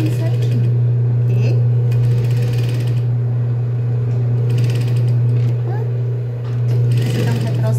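A sewing machine stitches fabric for a child's wrap-style shorts with a loud, continuous mechanical whir and rattle, steady throughout with a brief dip near the end.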